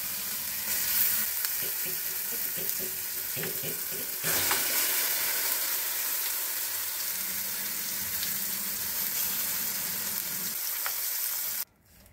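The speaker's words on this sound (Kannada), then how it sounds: "ಸಾಸಿವೆ ಚಟಪಟ ಅಂದ ತಕ್ಷಣ ರುಬ್ಬಿರೋ ಮಸಾಲ ಹಾಕ್ತಾ ಇದ್ದೀನಿ ನಾನು." Ground green masala of coriander, mint, green chilli, cumin and grated coconut frying in hot oil with mustard seeds, a loud continuous sizzle and crackle that cuts off abruptly at the end.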